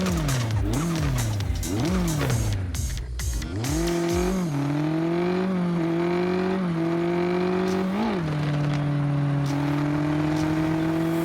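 Classic BMW engine in the Car Parking Multiplayer game, revving up and down in repeated swells before settling into a steady high drone, with bursts of tire squeal near the start and no talking.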